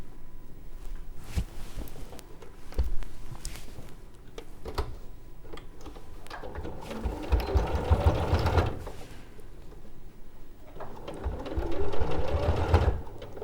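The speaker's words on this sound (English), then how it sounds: "sew them together one side at a time" A sewing machine stitches fabric pieces together in short runs, with rhythmic ticking needle strokes that rise and fall, close by with no talk.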